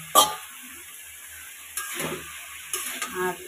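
Chopped yardlong beans and potato tipped into a pan of frying garlic and green chillies, giving sudden bursts of sizzling and stirring clatter between quiet stretches of low frying hiss.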